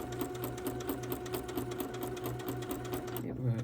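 A sewing machine stitches candlewick quilt blocks, running at a steady rapid rhythm close by, with a soft voice talking over it before the motor stops near the end.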